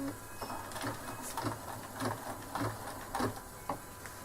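Embroidery machine stitching the next colour of thread on a hooped piece, a quiet rhythmic mechanical chatter with regular pulses about every half second.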